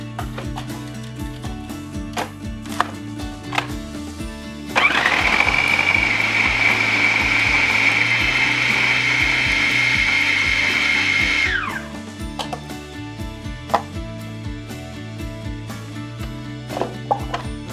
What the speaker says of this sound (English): So I'm just going to put a couple into the blender here.